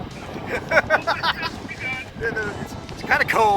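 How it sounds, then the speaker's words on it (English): Gusty wind buffets the microphone as people talk over it, a constant rushing roar rising and falling throughout. "it's a little windy"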